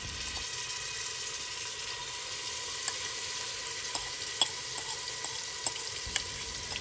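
Ground paste sautéing in hot ghee for Dindigul-style seeraga samba mutton biryani, a steady close sizzle with a few faint clicks of a spoon against the pan.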